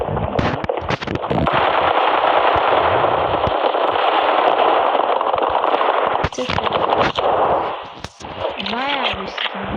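Rapid automatic gunfire from the mobile shooter Standoff 2, sharp bursts and long rattling volleys up close, with a voice talking over the game sounds.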